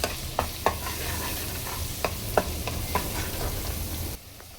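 Masala is stir-fried in hot oil in a pan, with a continuous sizzle and scattered spatula scrapes and taps. The sizzle cuts out abruptly near the end.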